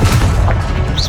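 A Confringo explosive spell in the Hogwarts Legacy video game lands as a loud, deep boom that rumbles steadily through a short burst of dense game sound.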